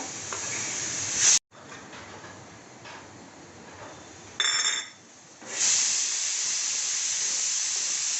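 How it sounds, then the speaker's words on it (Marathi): Pressure cooker whistling on the stove while mutton rassa cooks, a loud steady high hiss of venting steam that cuts out abruptly, returns, dips and resumes strongly, continuing to the end. "कुकरच्याही शिट्या होत आहेत आपल्या."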